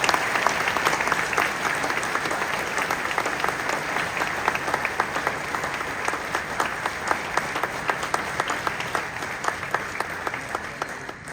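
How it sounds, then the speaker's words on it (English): A large audience at the U.S. Astronaut Hall of Fame induction at Kennedy Space Center applauds astronaut scholar recipients, with sustained, sharp clapping from many people lasting over ten seconds at a steady level. "let's give them a round of applause"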